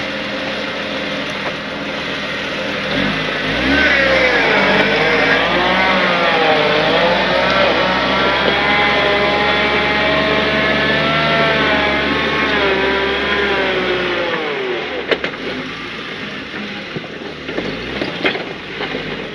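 A vehicle engine revs hard while towing a stuck vehicle out in the badlands. The steady droning note rises and falls with the throttle and continues for the whole stretch, with no talking.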